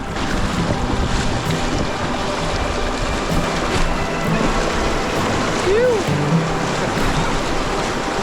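Packraft paddling on a class 2 river in New Zealand, with steady broadband rushing water and wind noise throughout, a continuous close wash of flowing river around the boat.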